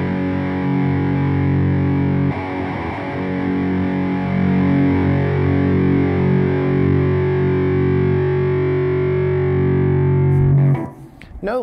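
Heavily distorted electric guitar through a Donner Cyclops modeling mini amp with the gain cranked: sustained, saturated chords ring loud and dense for about ten seconds, then cut off abruptly with a short noisy tail.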